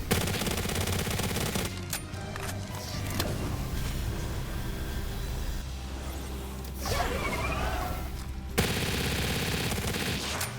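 Rapid automatic gunfire in Palworld, a loud dense stream of shots over game music, broken by short pauses and a whooshing movement sound before firing picks up again.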